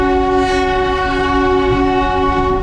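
A Darjeeling toy train, the UNESCO-listed narrow-gauge railway running since 1881, sounds a long, loud, steady horn blast that holds for nearly three seconds over the rumble of the moving train.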